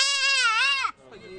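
A single goat for sale in rural Mauritania gives one loud, close, wavering bleat lasting nearly a second, then it breaks off into quieter murmuring.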